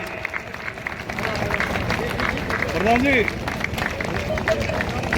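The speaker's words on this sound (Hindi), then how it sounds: "जोरदार तालियों से उनका अभिवादन इस्तकबाल करता हुआ दिखाई दे।" A crowd claps and cheers steadily to greet MLA Anshuman Singh Bhati at a hospital building event. Voices and a loud speaker on a microphone carry over the applause.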